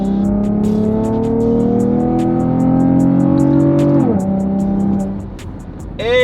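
Chevrolet Camaro fitted with a Volant performance air intake accelerating, a loud deep engine note rising steadily through a gear, dropping sharply at a shift, then fading before a brief burst at the end.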